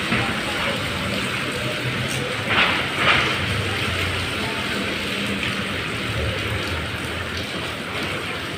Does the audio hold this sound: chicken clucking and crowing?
no